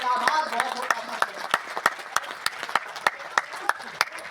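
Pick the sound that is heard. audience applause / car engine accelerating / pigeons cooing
audience applause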